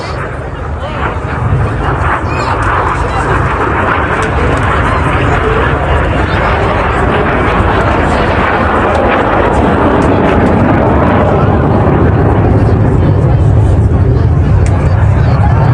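Display jets roar overhead at Blackpool Airshow while flying a formation manoeuvre called the Circus and pulling hard up to 6G. A loud, continuous broadband rumble builds slowly and stays steady throughout, with commentary and crowd noise mixed in.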